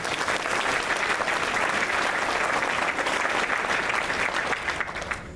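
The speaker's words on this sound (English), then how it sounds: "Microsoft hosting this deserves a round of applause." A conference audience applauds steadily at full strength from a crowd of many hands, then thins out and fades slightly near the end, with no voices over it.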